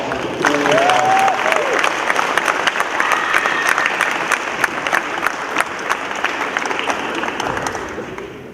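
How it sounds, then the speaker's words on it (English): A crowd applauds at a high school wrestling senior night in a gym, loud, sustained clapping from many people that gradually tapers off, with a brief whistle-like tone early on. "Let's give them a round of applause."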